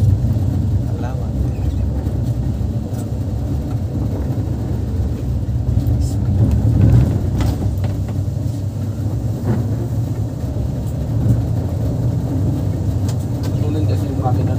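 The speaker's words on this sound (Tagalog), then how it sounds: "Malakas ang makina, no?" The engine of an ALPS G7017 coach on a Naga to Manila trip runs with a deep, steady rumble heard from inside the cabin, with passengers' voices murmuring faintly over it.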